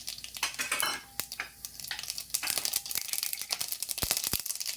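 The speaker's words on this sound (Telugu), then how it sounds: "కొద్దిగా ఆవాలు వేసేద్దాము." Mustard seeds hit hot onion-flavored oil in a pan for an alasandalu fry, giving a soft sizzle with sharp pops and some metallic clatter, close and fairly quiet.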